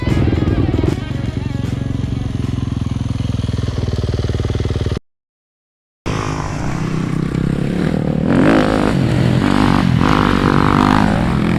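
A motocross motorcycle rides a sandy MX track close to the microphone, its engine droning and revving hard with rising pitch, cut by a brief gap of silence before the loud revving resumes.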